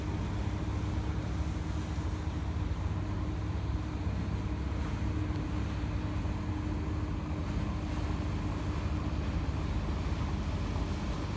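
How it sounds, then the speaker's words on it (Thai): A steady low engine drone and water wash from an express boat on the Chao Phraya River, continuous and even throughout, with no voices. "เรือด่วน"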